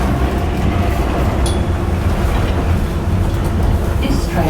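A London train running toward Lewisham, loud continuous rumble and rattle of wheels on track from inside the carriage, with a few faint high squeals over the steady noise.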